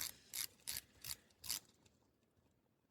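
Seiko SPB349 dive watch bezel turning one way, five crisp ratcheting clicks in quick succession, close and quiet, followed by a faint rubbing tail and near silence.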